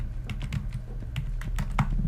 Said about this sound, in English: I'm going to be typing in here man praying